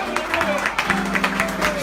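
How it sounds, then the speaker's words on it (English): A church congregation claps hands in a brisk, steady rhythm, the claps blending into a crowd patter beneath sung or spoken voices that carry over them. "Give a mighty hand clap to the Lord."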